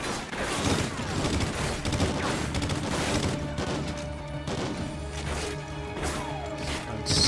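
Rapid gunfire and crashing impacts from a Call of Duty: Ghosts battle, loud and continuous across the whole stretch, layered over a dense game soundtrack with no talk.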